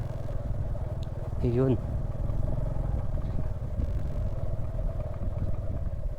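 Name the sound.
motorcycle riding over bridge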